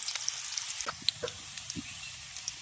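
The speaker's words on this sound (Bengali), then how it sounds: "এবার আগে গাজরটাকে আমি দু মিনিট ভেজে নেব তারপর আমি বাকি সবজিগুলো এর মধ্যে দেব" Carrots frying in a pan for vegetable dal, a quiet sizzle with scattered light crackles and a few stirring scrapes, close and unaccompanied by speech.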